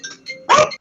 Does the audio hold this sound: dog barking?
yes